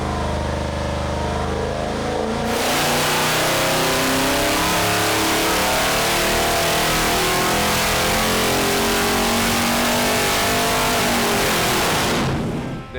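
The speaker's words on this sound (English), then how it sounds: "Now it's just a regular dyno session, only with two engines" Twin big-block engines coupled together on a dyno roar up from quiet into a sustained, very loud, rising rev that holds for around ten seconds before cutting off abruptly.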